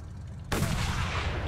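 A single sharp sniper rifle shot in a video game cracks loudly after a brief quiet lead-in, then echoes and rumbles on to the end.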